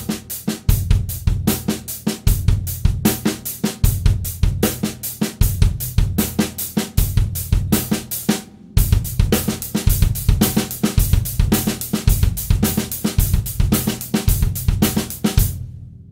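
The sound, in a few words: drum kit groove with bass drum matching snare drum rhythm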